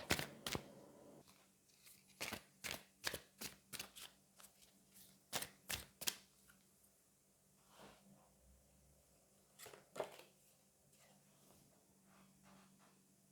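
Oracle cards are shuffled and drawn in quick soft flicks and riffles, close and quiet, coming in short irregular bursts with pauses between them.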